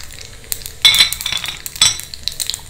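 Mustard seeds tempering in a little hot oil in a small tempering ladle, with loud crackling, spitting bursts and metallic clinks, heard close up and alone.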